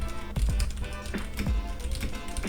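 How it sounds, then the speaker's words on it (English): Rapid irregular keystrokes on a computer keyboard, picked up close by a Maono PD300X microphone, with a few heavier thumps mixed into the steady clatter and no voices. "I'm typing on the keyboard"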